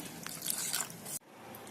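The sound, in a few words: tomato gravy boiling in pot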